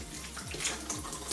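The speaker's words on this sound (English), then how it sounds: "Let's pour some light water over it." Light water poured over dirty, taped-down Xbox console parts, a steady close splashing and trickling wash like a running tap, continuous and fairly quiet with no talk.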